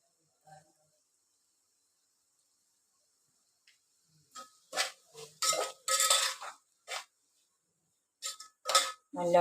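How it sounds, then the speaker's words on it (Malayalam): A spoon stirs masala veg pulav in a pot, giving a run of scraping, clinking strokes in irregular bursts after a quiet stretch. "നല്ലവണ്ണം മിക്സ് ചെയ്യുക."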